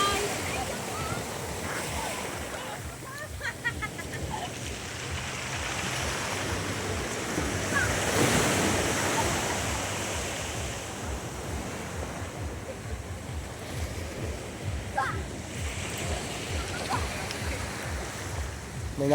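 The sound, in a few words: sea waves on the shore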